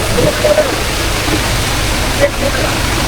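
Floodwater rushing across a flooded road beside a submerged car, a loud steady broadband roar filling the whole clip, with someone talking over it.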